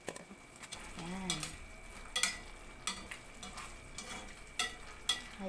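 Garlic sizzles with pork in a pan, a steady soft frying hiss broken by occasional scrapes and clinks of stirring, with faint background sounds.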